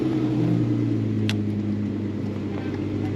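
An off-road vehicle engine crawls in first gear and low range on a rough alpine track, a steady close low rumble with a faint hum and no talk.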